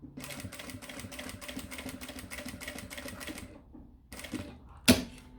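A sewing machine stitches the fabric of a mini backpack in a fast, steady run of needle strokes, pauses, resumes briefly, then gives a sharp clunk.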